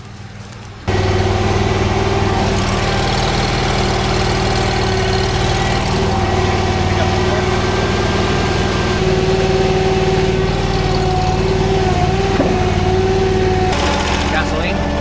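A Chinese mini skid steer's gasoline engine runs steadily while clearing brush, a loud continuous drone with a high whine on top, close by and sustained after a short quiet start.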